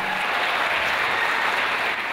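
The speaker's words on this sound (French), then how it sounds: "C'est sous une salve d'applaudissements que l'écharpe de maire de Vitry-sur-Seine était remise à Jean-Claude Kennedy." Sustained applause fills a town council chamber in Vitry-sur-Seine as the newly elected mayor receives his sash, a dense, even clapping from the assembled room with no break.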